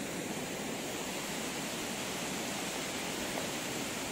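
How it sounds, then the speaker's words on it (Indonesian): A waterfall in a cold lava flow channel on Mount Semeru pours with a steady, even hiss of rushing water, soft and unbroken, heard alone without speech. "antrukan atau gerojokan air terjun ini"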